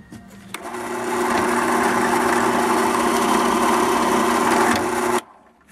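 A drill bores a dowel hole into wood for an eagle totem carving on a Native American flute, a steady whining motor drone running continuously for about five seconds before cutting off abruptly.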